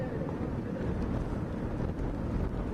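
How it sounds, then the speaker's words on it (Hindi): Strong wind from Cyclone Yaas in Bengal and Odisha, with rain, buffets the microphone as a dense, steady low roar throughout, with no voices. "बंगाल, ओडिशा में तूफान यास, तेज हवाओं के साथ बारिश हो रही है।"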